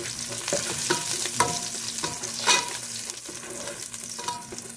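Crushed garlic sizzles and fries in a pan, a continuous crackling hiss close by with occasional stirring scrapes, no voices.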